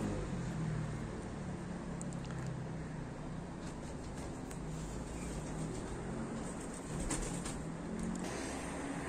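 Young pigeons land on a roof and coo softly, faint against steady outdoor background noise. A few light bird calls and flutters come through now and then.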